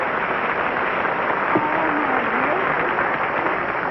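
Studio audience applause at a 1964 CBS primetime game show, a steady dense wash of clapping filling the whole stretch at an even level with no talk on top.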